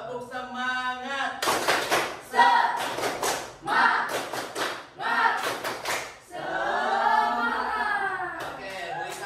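A class group in an Indonesian school lesson performs a rhythmic spirit clap, with short bursts of sharp, close claps set in a pattern and loud chanted voices between and under them.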